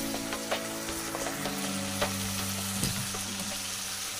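Curry vegetables sizzle and fry steadily in hot oil in a home kitchen, a loud continuous crackle with occasional sharper pops and stirring scrapes.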